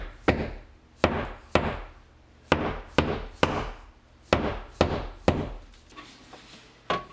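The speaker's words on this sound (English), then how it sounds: "I put the anchors in and pound them in place with a hammer" Sharp hammer blows pound wall anchors into place at irregular intervals, about a dozen solid knocks with short ringing decays, close by and loud.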